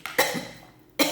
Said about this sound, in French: Je m'étouffe.